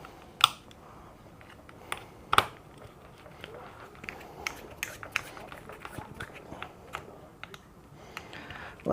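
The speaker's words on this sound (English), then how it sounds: "Put the gearbox screws back in." Gearbox screws being driven back into an HR1 Works RC buggy, with small close clicks and ratcheting taps from a hand tool in an irregular rhythm over faint background noise.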